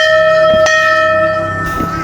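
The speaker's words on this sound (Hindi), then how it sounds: "हवा में बजती घंटियों की मधुर ध्वनि आत्मा को तुरंत सुकून देती है" Temple bells at hilltop Badhangadi ring in the wind, a loud, bright metallic tone sustained with long ringing overtones and a second softer strike near the end.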